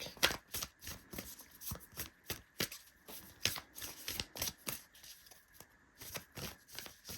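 A Moonology oracle card deck is shuffled by hand in a steady, rapid rhythm of crisp card riffles and slaps, close and fairly quiet, with no talking.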